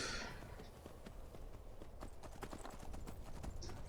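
Horse hooves clip-clop steadily in Skyrim, the fantasy video game, a dense run of close, even hoofbeats continuing throughout with no talk over them.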